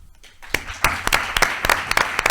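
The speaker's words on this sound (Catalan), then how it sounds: "jo vull donar un aplaudiment molt fort per totes aquestes grans artistes" Scattered hand claps from a small audience at a round-table discussion about the Paral·lel vedettes, starting after a quiet moment and continuing as a sparse, uneven patter of sharp claps.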